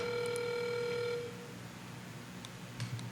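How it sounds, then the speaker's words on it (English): A steady ringing tone plays over a phone line on speakerphone for about a second, then cuts off, leaving line hiss with a few faint clicks. "Put it on speakerphone, please. Okay, it's ringing."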